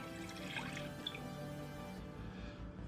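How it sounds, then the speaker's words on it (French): Milk pours into a small mixing bowl in a quiet kitchen, a soft, steady liquid stream with light dripping that lasts about three seconds. "vous versez le lait."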